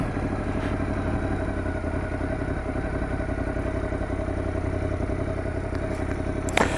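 A Ducati Scrambler 1100 Sport rumbles steadily at low revs, around 2000 rpm, while being ridden, with a continuous close engine drone and light wind and road noise and a brief knock near the end.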